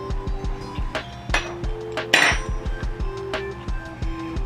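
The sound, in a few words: spoon mixing potato salad in a bowl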